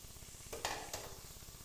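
Chopped onions sizzle in hot oil in a pan for coconut rice, a soft steady crackle with a few brief stirring scrapes of a utensil, no voices.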